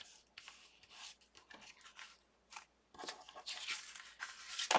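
Scissors trimming a paper craft panel from a Spellbinders Peekaboo Trellis die set, making a series of short, crisp snips and rustling paper rubs at close range, quiet overall with no one speaking.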